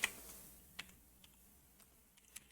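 Keys on a computer keyboard tapped sparsely, one sharp click at the start and a few faint, widely spaced taps afterward, quiet and close with no voices.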